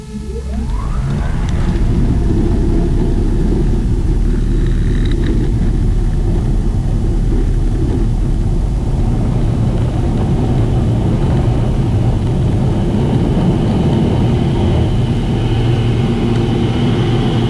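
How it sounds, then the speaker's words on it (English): A Pipistrel Velis Electro electric airplane takes off from the runway at full power, its loud steady motor and propeller drone rising briefly in pitch at the start, then holding a constant close roar. "I expect to see minimum 50 kilowatts as I apply full power. Okay. Let's go. Go green, taking off runway 21."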